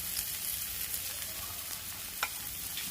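Chopped onion frying in a pan alongside mutton brain, a steady quiet sizzle with faint stirring and one brief scrape near the end.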